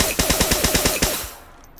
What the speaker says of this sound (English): So there you have it. That is the syringe gun.